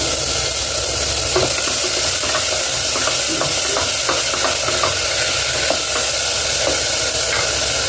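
Tomatoes sautéing with mint leaves and green chillies in a pan for a potato bun biryani, a steady close sizzle with frequent light stirring scrapes throughout, no voices.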